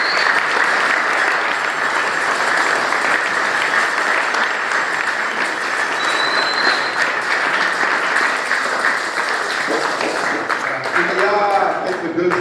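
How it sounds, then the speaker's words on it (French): Dense, sustained applause from an audience at a Christmas celebration in Nyassia, loud and even for over ten seconds, with a voice breaking in near the end. "Vous pouvez applaudir."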